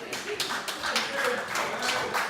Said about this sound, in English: I said a fucking round of applause, not a clap